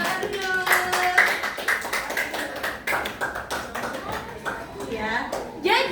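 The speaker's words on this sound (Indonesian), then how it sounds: "silakan tepuk tangan untuk kelompok 3." A group of students claps steadily and enthusiastically in a classroom, a dense patter of applause with a few voices calling out over it.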